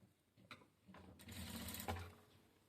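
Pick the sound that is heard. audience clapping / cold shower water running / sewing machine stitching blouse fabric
sewing machine stitching blouse fabric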